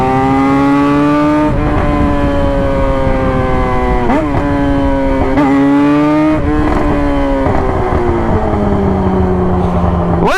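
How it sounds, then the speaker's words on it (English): A loud motorcycle engine roars continuously while riding, its pitch sliding down and surging back up with several gear changes, close and steady throughout. "One thing I do like about this bike is how freaking loud it is."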